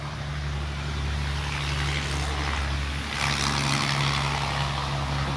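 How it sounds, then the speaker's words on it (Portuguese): A loud, noisy car passes along a street by a town square in Dracena, São Paulo, its broadband roar swelling and peaking near the end over a steady low hum. "Um carro bem barulhento"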